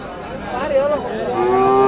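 Cattle and buffaloes at a weekly livestock market in Kunthaarapalli, Krishnagiri district, with a drawn-out low moo rising over the steady crowd and market bustle.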